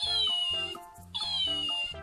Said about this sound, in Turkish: Bak kedim miyav diyor.